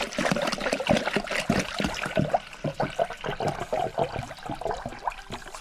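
Water pours and splashes into a Miata's interior during a leak test, a steady irregular trickling and splattering that runs continuously, close and moderately loud, with no voices.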